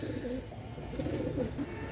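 Pakistani white golden pigeons with bright red eyes coo softly and continuously in low, warbling phrases, close by and alone without any talk.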